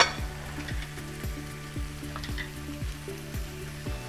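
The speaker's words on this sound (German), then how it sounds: "rühre ich nochmal meine Soße" Sweet and sour sauce stirred in a frying pan: a soft, steady sizzle with a regular scraping rhythm of about two strokes per second, close and alone.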